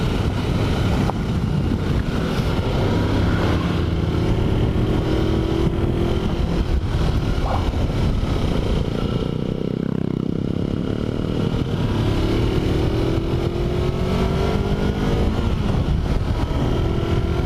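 A Kawasaki Versys X-250 motorcycle rides along an asphalt road. Its engine drones steadily, with shifting pitch, under constant heavy wind buffeting on the microphone.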